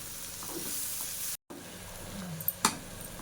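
Steady sizzling of broad beans frying in a pan with garlic chili powder, with a brief break and a couple of sharp scrapes as they're stirred near the end.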